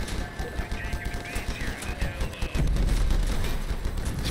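Rapid gunfire strikes an armored player vehicle in the Crossout combat game, bursts crackling steadily and swelling louder after a moment, with faint engine hum beneath.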